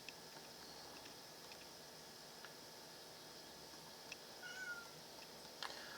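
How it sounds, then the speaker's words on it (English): A cat lets out a faint, short meow or two late in a mostly quiet indoor stretch with a low background hiss. "Alright, Streaming Cat, when this game's finished, we'll let you out"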